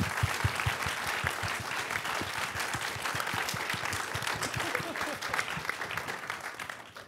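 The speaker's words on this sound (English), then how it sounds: "Give yourselves a round of applause." At the close of a panel event, a crowd gives a sustained round of applause: thick, even clapping with some sharp individual claps close by, fading slightly near the end.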